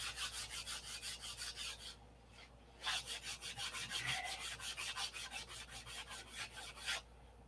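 Sandpaper rubbing back and forth on the flaps of a P-47 model airplane, a steady run of close, rhythmic rasping strokes with two brief pauses.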